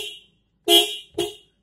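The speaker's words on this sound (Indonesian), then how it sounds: "di sini untuk setir di bagian sisi sini karena tidak aktif kita fungsikan klakson" A car horn on the steering wheel of a 2015 Toyota Innova sounds three times, one short honk followed by two closer, sharper blasts after a brief pause, loud and alone.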